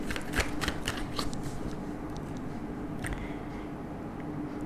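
Tarot cards being shuffled: a steady run of soft riffling and flicking with scattered crisper snaps, close and fairly quiet, with no talking over it.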